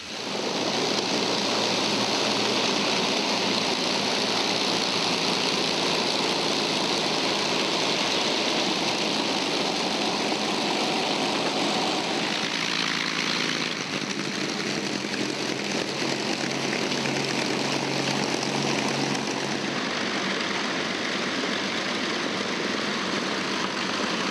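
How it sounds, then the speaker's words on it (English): A steady, loud roar of Avro Lancaster bomber piston engines running as the aircraft taxis along a runway, a constant droning rumble that shifts slightly in tone midway. "there's another Lancaster with Australian connections. It doesn't fly, but it can taxi up and down the runway."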